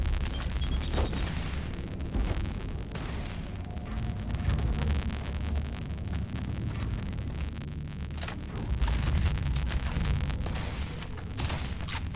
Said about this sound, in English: Well, the rockets worked.